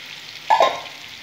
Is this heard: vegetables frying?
yes